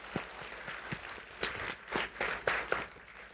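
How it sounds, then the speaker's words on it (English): Sparse, scattered clapping from a small conference audience at a finance presentation, a handful of separate claps and short bursts, fairly faint and uneven. "A round of applause for them."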